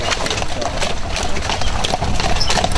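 Horses at a riding school in Herkenbosch trot with steady, overlapping clip-clop hoofbeats on a hard surface, loud and close, with a faint low engine-like rumble in the background.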